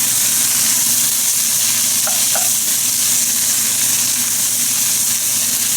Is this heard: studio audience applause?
no